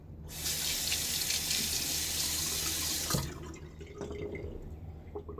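Tap water gushes steadily into a sink for about three seconds while rinsing after a shave with a Gillette Tech Hybrid razor, then cuts off, leaving faint drips and splashes.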